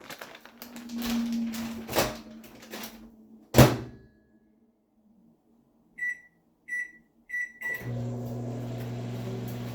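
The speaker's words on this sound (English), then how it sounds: "I am going to put the broccoli in the microwave" Microwave door clunks and a thud, then three short beeps, and the oven's low steady hum starts running as it heats broccoli.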